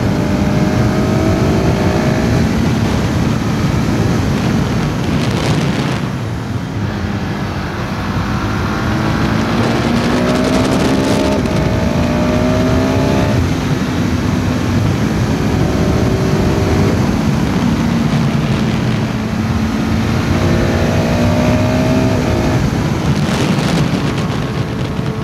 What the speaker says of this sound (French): La sonorité de l'échappement aussi est franchement pas terrible, d'origine en tout cas.